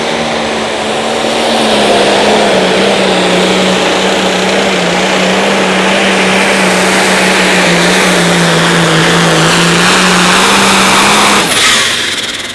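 A limited pro stock pulling tractor's engine drones loud and sustained at an outdoor tractor pull, holding a steady roaring pitch under heavy load, then cutting off abruptly near the end.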